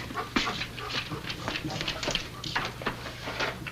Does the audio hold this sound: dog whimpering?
yes